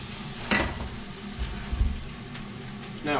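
Ground beef or pork fries in a pan for mushroom mapo tofu, a steady close sizzle broken by a couple of brief scraping stirs. No one speaks.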